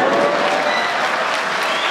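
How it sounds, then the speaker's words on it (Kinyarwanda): An audience claps steadily and fairly loudly at a comedy show, a continuous wash of hand claps with no voices rising above it. "dore nk'ubu mugiye kumpa amashyi"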